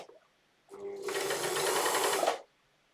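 A sewing machine stitches fabric in one continuous burst of rapid mechanical whirring lasting under two seconds, close and clear against a quiet room.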